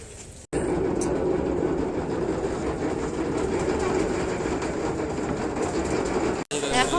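A late-night passenger train runs steadily with a continuous loud rumble and rattle of the carriages, briefly cut off near the start and end.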